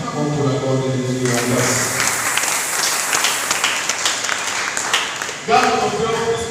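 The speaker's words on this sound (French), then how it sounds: "Acclamons pour la gloire de Jésus" A church congregation at a Sunday worship service claps for the glory of Jesus in sustained, dense applause, with voices and music carrying underneath before the clapping fades.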